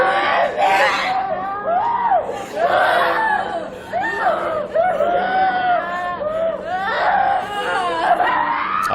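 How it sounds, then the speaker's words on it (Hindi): Schoolgirls at a school scream, wail and shout together, a dense, loud and continuous chorus of high, distressed cries and sobs with no pauses. "आप देखिए किस तरह से ये लड़कियां चिल्ला रही हैं।"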